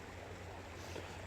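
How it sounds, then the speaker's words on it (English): A creek on a near-freezing winter day flows steadily, a continuous close wash of water noise with no voices. "I'm by the creek, as you can probably hear."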